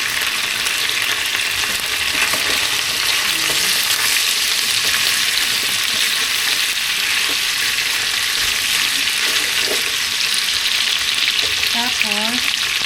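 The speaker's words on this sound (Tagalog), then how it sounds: "Igisa ko na lahat. Pagsabay na natin." Chicken sizzles and fries steadily in a hot pan for Filipino tinola, a dense continuous crackle with occasional stirring scrapes, close and loud, no talking.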